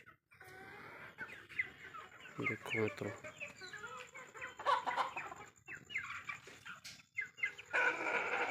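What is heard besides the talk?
chickens clucking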